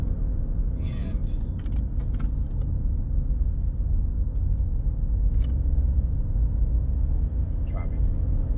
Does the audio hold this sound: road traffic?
yes